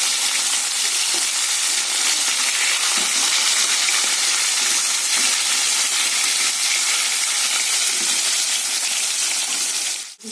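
Pieces of rohu fish fry in hot oil, a loud, continuous crackling sizzle that holds steady and close for the whole stretch before cutting off abruptly.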